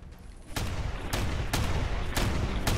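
Four to five heavy shotgun blasts from a super mutant shotgun fire in Fallout 4, spaced roughly half a second apart over a constant loud game background, with no talking.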